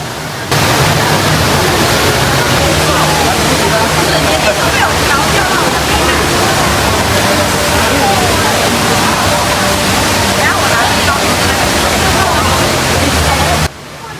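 The indoor waterfall at Jewel, Changi Airport roars loud and constant, a broad wall of falling water with faint crowd murmur mixed underneath.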